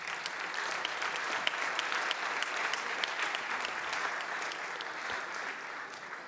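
An audience at a security directors' gala in France applauds, a steady, dense wash of clapping hands sustained from start to finish at moderate distance.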